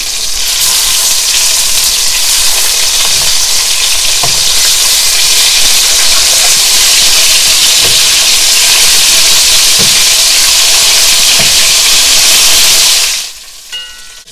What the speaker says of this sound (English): I'm going to braise on both sides.